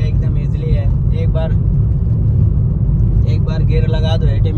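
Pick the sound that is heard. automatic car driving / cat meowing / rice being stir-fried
automatic car driving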